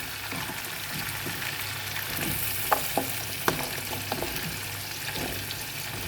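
Garlic cloves and raw mango sizzle steadily in a hot pan, with a continuous frying hiss punctuated by a few sharp pops and occasional stirring clatter.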